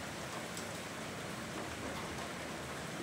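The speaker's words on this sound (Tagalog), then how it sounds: "Maulan dito sa aming bayan." Steady rainfall in a Philippine town after a day of continuous downpour, a dense, even hiss of drops hitting surfaces, moderately quiet and unbroken with no voices.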